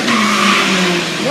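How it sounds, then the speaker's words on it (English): A Corvette races at Rocky Mountain Speedway during midnight drag racing, its engine roaring loud and close with a sustained, rising tone, ending in a brief tire squeal. "That's not a Mustang, that's a Corvette."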